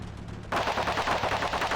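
Sudden burst of machine-gun fire in a war strategy game set in a Persian campaign, rapid rattling shots starting after a short quiet lead-in and continuing steadily to the end.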